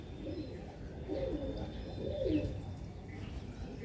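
A restless female pigeon held in the hand gives two soft, low coos against a faint hissy background, quiet and close, with no clear wing flapping.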